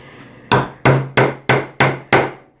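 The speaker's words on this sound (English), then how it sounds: "You guys wanted the hammer, you got it. Kind of loud, huh?" A hammer strikes a leather knife sheath six times in a steady rhythm, each sharp, loud, close thwack decaying quickly with a faint low ring.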